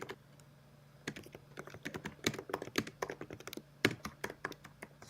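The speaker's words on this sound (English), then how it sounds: "Whose keyboard is that?" A computer keyboard is being typed on during a live drawing stream, with quiet, irregular clicks and taps that come in uneven bursts and grow busier partway through, with no talking.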